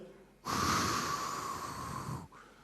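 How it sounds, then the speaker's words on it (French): A person exhales audibly and forcefully after stretching upward during a workplace wellness session, one sustained breathy snort-like rush of air close to the microphone lasting nearly two seconds. "Là, on expire."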